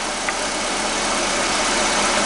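A 2-liter car engine running, a loud, steady, dense mechanical drone heard close up with no pauses and no voices over it.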